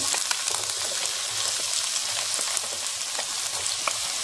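Small pieces of chopped onion sizzle and crackle in hot organic canola oil, a steady loud frying hiss with occasional stirring clicks and no talk.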